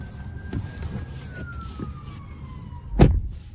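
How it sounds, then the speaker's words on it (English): An ambulance siren passes by outside a 2024 GMC Terrain AT4, its wailing tone sliding slowly downward and fairly faint, over low road rumble and a few soft knocks, with a sharp thump near the end. "that ambulance is going right by me if you can see it"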